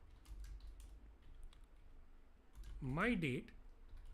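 Fast, quiet clicking of a computer keyboard while code is entered, with light taps in short bursts and someone speaking briefly near the end.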